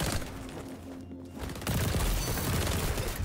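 A Vector submachine gun in the shooter game XDefiant fires in rapid, dense bursts, pausing briefly before resuming with louder, heavier sustained fire.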